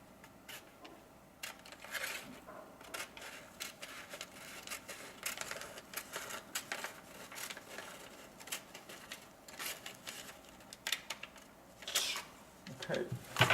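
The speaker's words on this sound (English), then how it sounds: "Cut the paper with any tool you want. I use scissors first" Repeated crisp snips and rustles of scissors cutting small pieces of paper, irregular and close, with soft handling noises between the cuts.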